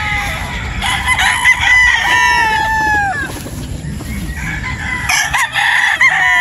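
Possum and sweater gamefowl broodstags at a game farm in Batangas crow loudly and close, several long cock-a-doodle-doo calls overlapping with clucks and farm background noise.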